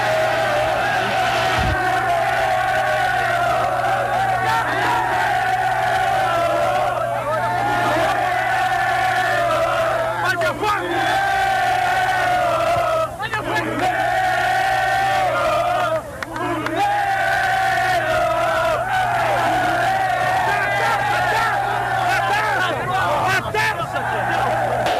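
A large crowd of football fans roars and chants continuously after a Brazil victory in a summer tournament final, a dense, sustained wall of distant cheering and whooping with no pauses.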